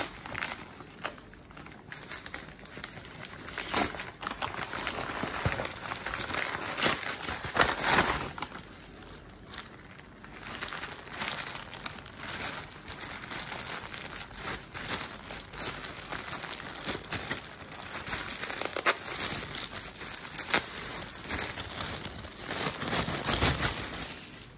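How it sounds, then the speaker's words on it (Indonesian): Plastic packaging crinkles and rustles close up while a Kabua bicycle handlebar bag is unboxed, with irregular crackling handling noises that continue throughout. "sekarang kita unboxing ya"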